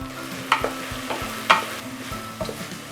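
Spices, turmeric, asafoetida and grated coconut sauté in oil for veg kurma while a spoon scrapes the pan, giving a steady low sizzle broken by several sharp, close scraping strokes roughly every half second.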